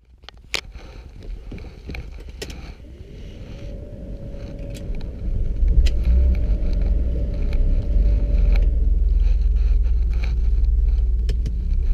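A 1991 BMW 525i E34 sedan drives along a road at sunset, its engine note rising steadily as it accelerates and settling into a continuous rumble with road and wind noise around it.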